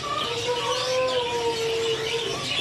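Caged songbirds at the Pramuka bird market in Jakarta, including a Sumatran green cucak, call with clear, sliding whistled notes. The calls sound fairly close over a low market murmur.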